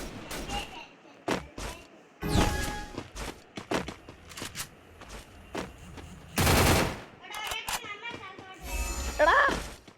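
Video game gunfire with headshots, bursts of rapid shots and sharp single cracks scattered between thuds and footsteps, loud and uneven, with brief talk mixed in.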